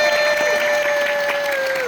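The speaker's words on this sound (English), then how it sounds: "Let's give a round of applause for this" Brief audience applause at a Q&A for the film I Love Boosters, a continuous clapping wash under a steady ringing tone.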